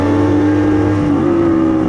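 A Rusi 200cc motorcycle engine labors up a climb, its loud steady drone holding a low tone before the pitch shifts upward partway through, with no voices.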